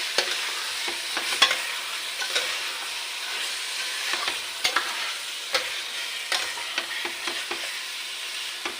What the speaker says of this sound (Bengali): দেখুন এটা অনেকটা ভাজা ভাজি হয়ে গেছে এবারে এই আলুগুলো এর মধ্যে দিয়ে দেবো